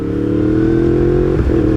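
A Yamaha R1M sport motorcycle's loud exhaust revs steadily near the listener, its harmonic engine note holding, then dipping briefly and climbing again near the end.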